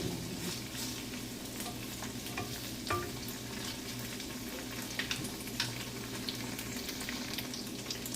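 Tofu fries on its other side in a pan, a steady close sizzle with light crackling and occasional stirring clicks running unbroken throughout.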